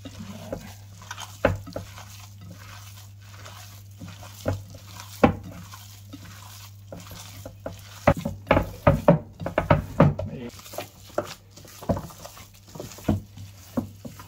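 Ground garlic is stirred in a pan at night, giving irregular scraping taps and clinks of the utensil against the pan, sparse at first and then quicker and denser, over a steady low hum.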